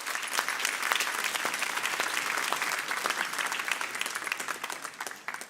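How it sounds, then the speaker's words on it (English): Audience applause at a blockchain industry summit awards ceremony for the nominees, a dense sustained clapping from a large crowd that fills the room steadily and tapers slightly at the end. "A round of applause there, folks."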